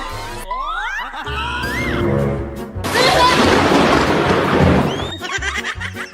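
A loud rumbling boom of thunder rolls in and crackles for a few seconds, with people's voices and laughter heard around it.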